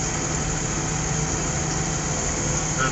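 A tractor engine pulls up a hill, holding a steady, loud, unbroken drone throughout with no voices.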